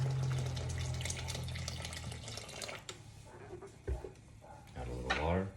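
Water is poured into a pot of boiling beans on a stove, a bright gushing splash at first, followed by clinks, bubbling and stirring sounds.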